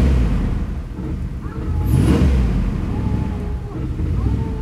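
An abandoned second-generation Dodge truck, stuck and in four-wheel drive, revs and strains nearby while wind buffets the microphone and a voice speaks briefly over the engine.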